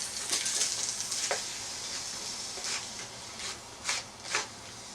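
Sliced meat hits a well-greased pan on a grill, setting off a steady, moderately loud sizzle with a few sharper crackling bursts rising out of the hiss.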